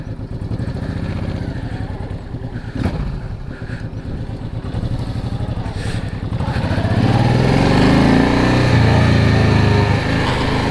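A Honda VTX1800R cruiser motorcycle engine rumbles loud and close while riding, then the throttle opens and the drone rises in pitch and volume toward the end.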